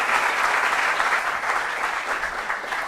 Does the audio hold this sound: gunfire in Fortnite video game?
no